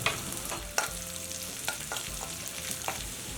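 Chopped ginger and garlic frying in hot oil, a steady broadband sizzle with occasional spoon clinks and stirring scrapes against the pan, no voices.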